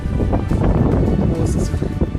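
Strong wind buffets the microphone on an outdoor road in San Jose, Negros Oriental, a loud rumbling roar that dominates the whole moment with no clear speech.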